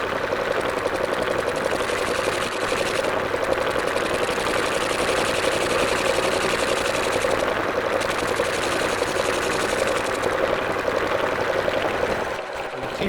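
A lathe cuts wood for an elliptical bowl, giving a steady, loud whirring and chattering drone that runs without pause, with brief dropouts near the end.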